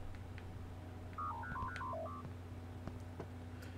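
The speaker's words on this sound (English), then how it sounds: "Sorry about the background notification sounds." A quick run of about eight short electronic tones sounds over steady background hum during an Animal Crossing session on a phone, followed by a few faint clicks.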